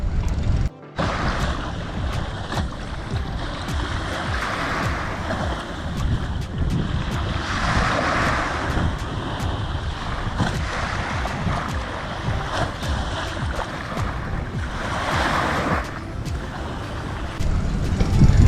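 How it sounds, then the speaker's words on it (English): Surf rolls steadily onto Marina Beach in Dubai, a constant washing roar mixed with wind buffeting the microphone, swelling and easing over a long stretch. "And this is the Marina Beach."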